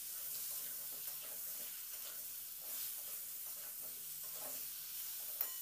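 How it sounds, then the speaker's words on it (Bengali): Potatoes and beans, seasoned with salt and turmeric, are stirred and fried in a pan, producing a quiet, close sizzle with repeated scraping strokes and small clatters and no speech. "এবার লবণ আর হলুদটা দিয়ে একটু নাড়াচাড়া করে একটু ভেজে নিচ্ছি।"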